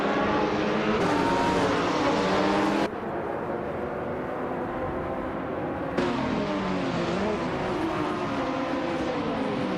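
Simulated race car engines in a video game, including a 2008 KTM X-Bow GT4, roar and whine steadily, pitch shifting as gears change and cuts between cars occur, loud with no talking.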